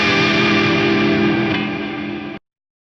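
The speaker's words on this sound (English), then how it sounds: "You can hear that it cuts the reverb tails off there." A guitar chord rings through an Axe Fx III with reverb, sustaining loud and bright for about two seconds before the reverb tail cuts off abruptly to silence as the scene switches.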